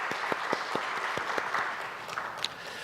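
Church congregation applauding during a Sunday worship service, a steady wash of many hands clapping with a few sharper individual claps standing out, moderately distant and even throughout.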